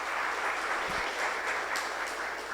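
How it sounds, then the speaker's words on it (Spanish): A church congregation applauding during a sermon, steady and sustained clapping that fills the space evenly and stays at a constant level, with no talk over it. "Démosle un fuerte aplauso al Señor"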